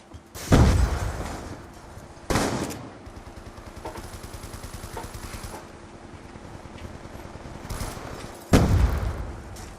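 Gunfire in the video game Call of Duty: Black Ops 2 comes as sharp loud shots punctuating a stretch of rapid, quieter automatic fire, close up with no talking.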